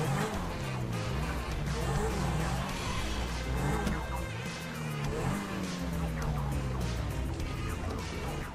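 Car driving in the GTA V video game, a constant engine roar with shifting pitch and occasional squeals or siren-like tones, a voice speaking briefly over the noise.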